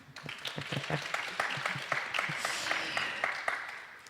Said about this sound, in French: on peut les applaudir déjà